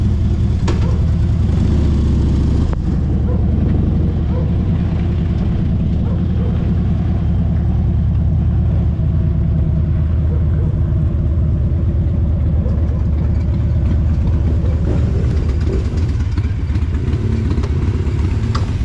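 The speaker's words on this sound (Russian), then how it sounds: "звук мотоциклов заебал" Several motorcycles of a biker club riding in a column run loud and steady throughout, a continuous engine drone with rumbling low end and a brief cut near the three-second mark.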